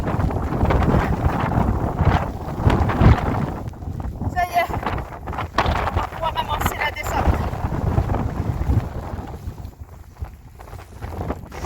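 Strong wind on the West Highland Way in Scotland buffets the microphone in a constant heavy roar and rumble, gusting throughout with a voice speaking now and then.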